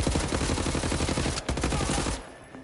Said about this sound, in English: I'm only shooting you in the face, legs and arms.